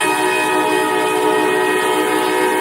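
A Norfolk Southern locomotive horn from the Trainz train simulator blares as one loud, steady multi-tone chord held the whole time, with no voices.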